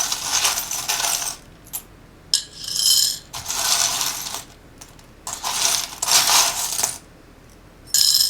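A small die drops and rattles as it rolls, with several bright clicking bursts separated by short pauses and no speech.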